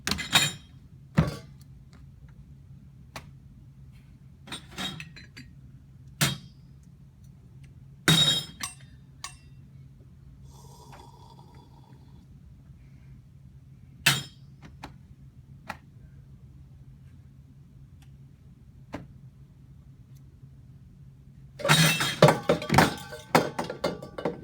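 Work gloves fitted with paper clips on the fingertips tap on wood, giving sparse, light clicks and thunks spread over a quiet room, ending with a dense burst of rapid tapping.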